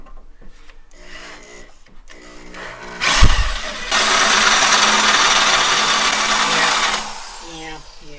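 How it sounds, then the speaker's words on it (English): A power drill bores a pilot hole in metal while modifying the stabilizer cradle of a 1952 PD-4103 Silverside Greyhound bus. A sharp thump is followed by a loud, steady grinding whine that holds for about four seconds, then stops. "So start with a small hole first and a pilot hole and increase your bit sizes as you go."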